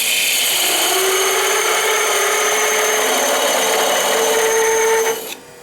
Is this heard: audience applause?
no